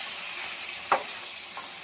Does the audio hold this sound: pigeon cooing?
no